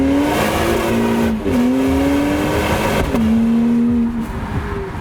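2025 BMW X3 M50 with quad exhausts driving on a wet road, its engine droning steadily from inside the cabin and rising in pitch through shifts, with no talk over it.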